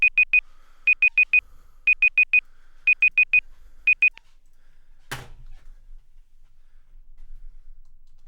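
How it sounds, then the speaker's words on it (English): A sedentary timer alarm gives bright electronic beeps in quick groups of three or four, repeated steadily for about four seconds, followed by a sharp click and quiet room noise. "that's my sedentary timer"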